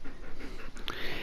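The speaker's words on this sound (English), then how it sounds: "if you can hear panting in the background, that is my dog." A dog pants quickly and steadily close by for a brief moment, with quick breathy huffs and a faint whimper-like note near the end, and no talking over it.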